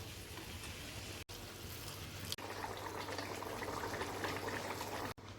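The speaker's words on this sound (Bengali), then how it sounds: "এবার এর মধ্যে দেব হচ্ছে গরম জল।" Hot water poured into a pot of braised egg curry with potatoes and spices, a steady bubbling, boiling rush close by, continuous and fairly loud with a couple of brief breaks.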